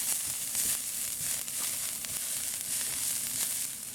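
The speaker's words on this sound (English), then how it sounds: "I'm going to put 1 teaspoon of ginger in it" A teaspoon of ginger sizzling in a hot pan for a shrimp and baby bok choy dish, a continuous close crackling hiss with small pops and faint stirring, no voices.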